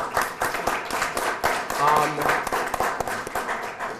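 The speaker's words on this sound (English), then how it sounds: "let's give a round of applause to John Helmholt" An audience at a Central High event claps in a round of applause, a dense patter of many hands with a voice carrying over it.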